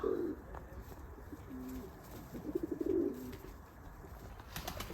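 Pigeons coo softly in short, low rolling phrases at a pigeon market in Lublin, with faint background bustle and no speech over them.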